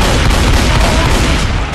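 Shotgun fire in the video game Left 4 Dead 2, heard as a dense, loud burst of booming blasts that run together into a continuous roar.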